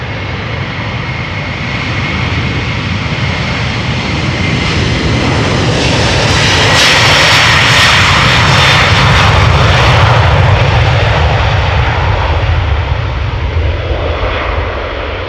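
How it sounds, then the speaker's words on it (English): KLM Airbus A330-300 departing Amsterdam Schiphol near the rotation point, a loud, continuous jet engine roar that swells to a peak midway and then slowly eases, with no voices. "this very loud departure was KLM flight 537, an Airbus A330-300, destination Kigali."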